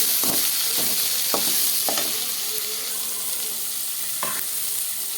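Small tomato frying in a pan for mango curry, a steady high sizzle broken by several sharp spatula scrapes and stirs, close and alone with no talk.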